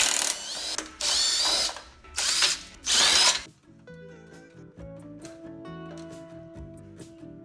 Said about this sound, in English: later on I go back and unscrew those screws